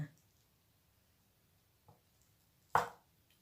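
A knife cuts through homemade black pepper pork sausage: one faint thud followed by a sharper, louder chop near the end, with quiet room background between.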